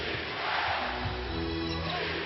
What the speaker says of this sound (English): Crowd coming alive a bit.